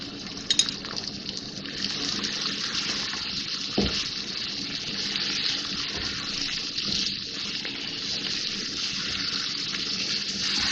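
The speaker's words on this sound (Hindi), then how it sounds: "अब मैं इसमें ये दही शामिल करूँगी, थोड़ा थोड़ा डाल के फिर मैं इसको भूनती जाऊँगी" Yogurt added in small amounts to beef keema frying in a karahi, giving a steady broad hiss and bubbling sizzle that runs the whole time with no talk, plus one brief low knock near the start.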